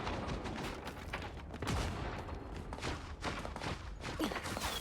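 Sniper gunfire in the video game Marvel Rivals, a run of sharp cracks and thuds in quick succession over a busy, fairly faint battle din, with no voices.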